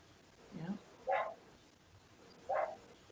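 A small dog outdoors gives three short, separate barks spaced about a second apart, faint and somewhat distant against a quiet background.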